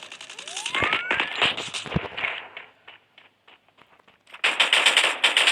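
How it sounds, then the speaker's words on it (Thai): Automatic gunfire in the battle-royale shooter Free Fire, loud rapid bursts with a rising whistle near the start, a quieter sparse stretch of scattered single shots, then a dense loud burst at the end. "ยิงไปก่อนครับ"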